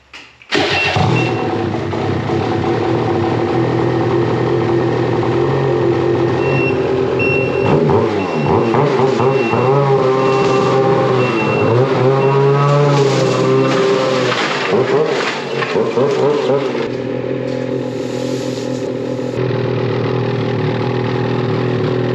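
A 2022 Ski-Doo Summit Gen 4 snowmobile runs loud and close with its aftermarket exhaust can, holding a steady drone that swells as it revs and falls back, with no one talking over it.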